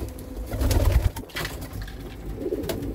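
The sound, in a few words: pigeons cooing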